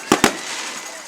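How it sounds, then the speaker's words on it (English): Fireworks at a high school varsity football game after a touchdown: two sharp bangs in quick succession, followed by a fading rumble over crowd noise. "beautiful fireworks show every touchdown"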